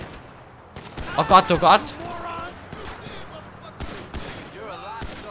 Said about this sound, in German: Da schießt doch jemand!